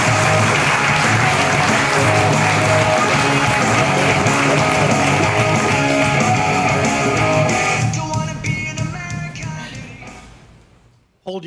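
An audience applauds to welcome a speaker onto a talk-event stage: loud, dense clapping that holds steady, then thins and tapers off into near silence.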